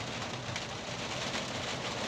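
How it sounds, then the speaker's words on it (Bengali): Dense rain pours in a steady, even roar, a broad wash of hiss with no voices, on a street in Krishnanagar, West Bengal. "বিখ্যাত বৃষ্টি হচ্ছে বিখ্যাত বৃষ্টি দেখো"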